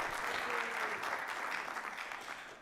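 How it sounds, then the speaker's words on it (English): Brief, steady applause from an audience at a high school concert, a crowd clapping together and slowly fading toward the end. "Another applause for Desiree."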